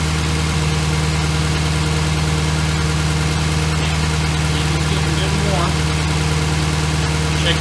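Jaguar XK8 engine idling steadily while warming up, a constant low drone and hum close by with no change in pitch, with faint speech under it.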